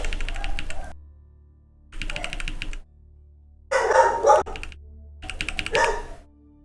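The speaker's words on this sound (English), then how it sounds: "Dogs are barking now." Dogs bark in four separate bursts, each lasting under a second, heard at moderate distance over a steady low hum, with quieter keyboard-like clicks near the start.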